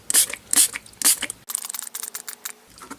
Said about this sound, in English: you just take the Mod Podge Ultra again and just spray